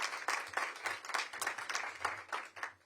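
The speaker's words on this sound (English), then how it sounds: "Let's give her a big round of applause." A small audience at a mayoral event in Washington, D.C.'s Ward 8 gives a short round of applause, quiet and somewhat uneven with distinct individual claps.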